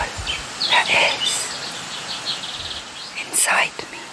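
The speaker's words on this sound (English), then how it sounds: "listening to the birds" Scattered high chirps and short bird calls come and go over a quiet, soft background near a stream in Cot Valley, with a couple of brighter bursts.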